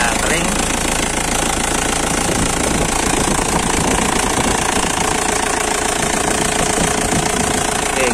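A 2002 Isuzu Panther LS diesel engine idles with a steady, loud clattering knock, heard close up and continuously throughout.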